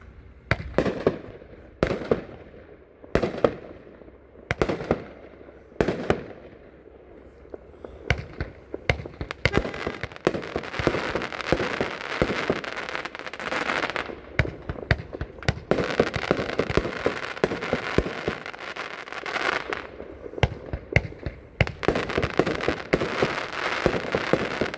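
Wildly Wicked 25-shot firework cake firing: about eight sharp separate launch bangs in the first seconds, then a dense, loud barrage of overlapping pops and crackles that roars on steadily to the end.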